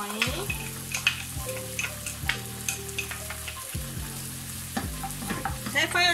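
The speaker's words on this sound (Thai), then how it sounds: "เราจะใช้วิธีการผัดแบบนี้นะคะ" A Thai sauce of soybean paste, fish sauce and oyster sauce is stir-fried in a pan over low heat, giving a steady close sizzle with scraping stirs under background musical tones.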